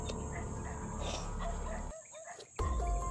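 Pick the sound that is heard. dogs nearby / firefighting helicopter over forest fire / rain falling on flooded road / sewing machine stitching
dogs nearby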